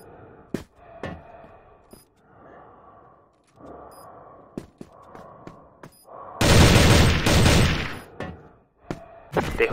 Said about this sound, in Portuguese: Eu ativei a bomba.